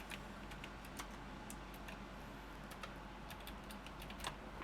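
Quiet, steady typing on a computer keyboard, with a run of light, irregular key clicks under a low room hum and no voices.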